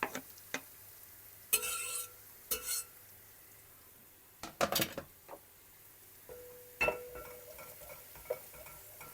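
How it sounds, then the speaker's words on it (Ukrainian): Garlic and onion being stirred in a pot: irregular scraping and clinking bursts of a utensil against metal over a soft frying hiss. "Швиденько перемішу, щоб ці кастрюлі мені не пригоріло."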